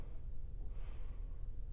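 A single deep inhale through the nose during a meditation breathing exercise, soft and close, rising briefly then fading over low background hiss.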